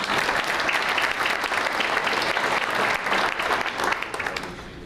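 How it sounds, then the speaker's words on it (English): A crowd at a town business appreciation breakfast applauds warmly, dense steady clapping that carries on for several seconds before beginning to thin out and fade. "big round of applause for her"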